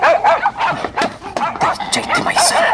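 A dog barks and yips in short, repeated bursts close by, mixed with whimpering, while people talk over it.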